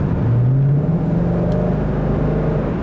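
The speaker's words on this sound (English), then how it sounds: "the V6 still does not make the noises that this V8 likes to make" A 2014 Ford Mustang GT V8 engine drones loudly throughout, its low tone rising slightly as the revs climb, with a continuous whirring rumble and no voices.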